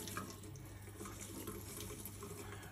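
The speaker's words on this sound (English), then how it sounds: "Bring it to the tap, get it nice and wet with cold water's fine, and give it a really good wring out." Cold water runs from a tap to wet a chamois sponge, a steady close splashing stream that holds at an even level throughout, with no voices.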